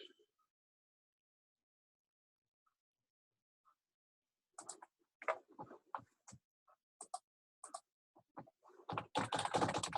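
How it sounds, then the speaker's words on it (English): Typing on a computer keyboard: after a long near-silent stretch, scattered irregular key clicks begin, then build into a dense, rapid flurry of keystrokes at the end, close and fairly quiet. "Type that down."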